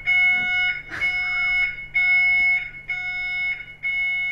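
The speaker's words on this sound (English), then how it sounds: "So I've set the smoke alarm off." A smoke alarm beeps loudly in a steady, repeating pattern of shrill tones, close by, with a brief noise burst early on, set off during a failed chromium trioxide chemistry demonstration.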